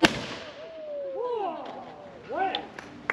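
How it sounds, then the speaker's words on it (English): A two-man musket fires once at an outdoor historical demonstration, a sharp loud blast right at the start, followed by voices and crowd murmurs. "That's how we learn to fire a two-man musket."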